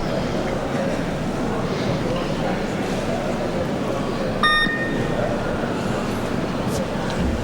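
Competition timer at a 77 kg weightlifting clean and jerk event gives a single short electronic beep, clear over a steady crowd hum and a commentator talking throughout.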